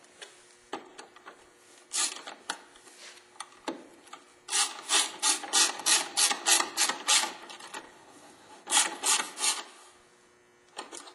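Two 10mm bolts tightened on a Chevrolet Equinox light assembly, a run of close, rhythmic ratcheting clicks and scraping turns in short bursts, with brief pauses between.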